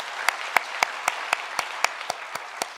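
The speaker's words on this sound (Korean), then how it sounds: "우리 뜨겁게 한번 박수하십시다." Rhythmic clapping from a church congregation, about a dozen evenly spaced claps from a small group, crisp and close, with no voices.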